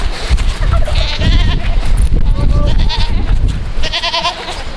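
Several Spanish goats bleat close by, overlapping loud nasal cries over a noisy, rumbling outdoor background.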